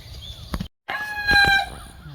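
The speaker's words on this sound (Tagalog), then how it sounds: "And then they have chickens." Chickens on a farm in Texas give brief clucking calls, fairly close, with a short gap partway through.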